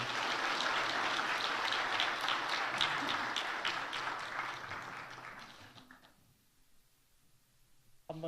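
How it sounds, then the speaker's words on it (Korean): A church congregation clapping in celebration during a Sunday service, a full sustained round of applause that fades away after about six seconds, leaving near silence before a brief sound at the end. "박수로 축하하겠습니다"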